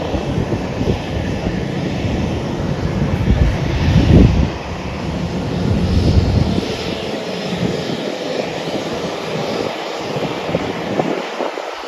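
Loud, steady roar of Royal Air Maroc jet airliner engines, rumbling and whooshing continuously with some wind buffeting the microphone, at a cold airport in Laayoune, Morocco.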